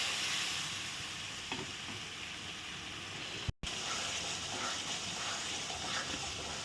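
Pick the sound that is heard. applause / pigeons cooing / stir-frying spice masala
stir-frying spice masala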